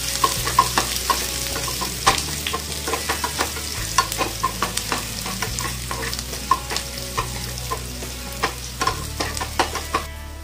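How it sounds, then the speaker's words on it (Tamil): Sliced onion, a dried red chili and curry leaves frying in a pan for a raw banana curry, steady crackling sizzle under repeated rhythmic spoon taps and scrapes, close and fairly loud, no voices. "கூடவே ஒரு வத்தல் மிளகாய் கொஞ்சம் கருவேப்பில போட்டு நல்லா வதக்கி விட்டுறலாம்."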